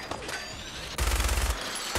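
Gunfire in the video game Fallout 4 comes as a rapid fusillade of loud, close shots, first lighter bursts, then a dense volley after about a second, with no talk.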